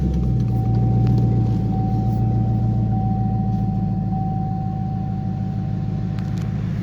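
A 2005 Cadillac CTS-V's engine runs at a steady idle, a constant low rumble with a faint whine, close and loud throughout with no talking.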